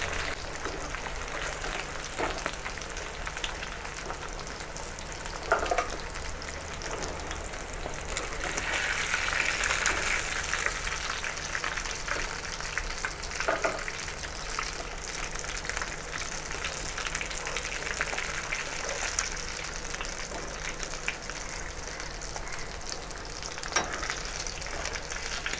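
Tuna pieces fry in a pan with a steady, moderate sizzle and crackle for nearly half a minute, with occasional louder pops and stirring noises and no voices.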